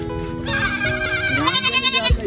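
A goat bleats in a run of wavering, quavering cries, loud and close, near the end breaking into rapid pulsed bleats, with no talk over it.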